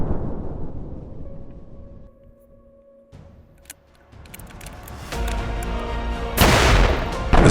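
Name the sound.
second hydrogen gas bottle explosion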